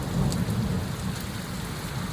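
Steady rain falls during a thunderstorm, a dense continuous wash with deep low rumbling of thunder underneath and a few brighter drop impacts, loud and close with no voices.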